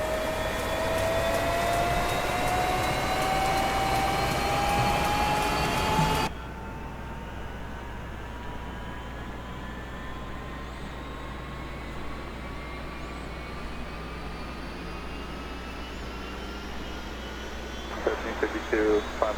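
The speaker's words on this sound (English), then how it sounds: "Alright, engine spooling up." Aircraft engine spooling up in the DCS flight simulator, a loud steady whine with a rising tone that continues after a drop in level, under occasional voices.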